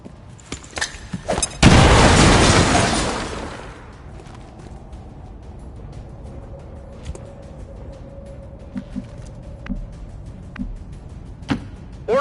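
Grenade blast in XCOM 2 lands as one loud, booming explosion after a few sharp clicks, then rolls off into a long decaying rumble, followed by quieter scattered ticks and a faint tonal hum.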